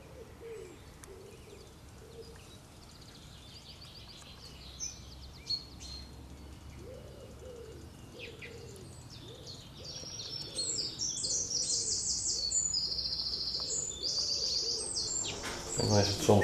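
Birdsong and chirps outdoors at a retreat in Heerde, with soft cooing doves low in the mix and busier high twittering building toward the end, all fairly faint and distant.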